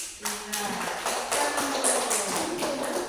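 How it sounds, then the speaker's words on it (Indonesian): A class group of students applauds together, with dense, steady clapping that swells quickly and fills the room for a few seconds. "beri aplaus untuk kelompok 3"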